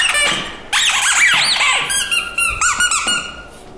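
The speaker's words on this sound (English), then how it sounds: "He just wanted to hear the squeak." A Sophie the Giraffe rubber teether squeaks loudly and close, a quick series of shrill, wavering squeals as the toy is squeezed repeatedly.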